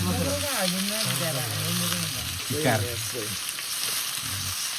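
Meat sizzles in a pan at a mountain herders' hut in Nage Pokhari, Gorkha, a steady loud frying hiss throughout, with nearby voices talking over it.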